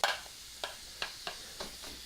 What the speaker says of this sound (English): I'm going to cook that sausage meat for about 10 to 12 minutes